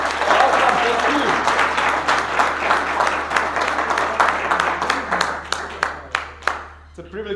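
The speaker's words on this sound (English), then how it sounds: "let's give them a super big round of applause and welcome" A crowd gives a big round of applause that starts dense and loud, then thins out into scattered individual claps before dying away, with voices murmuring underneath.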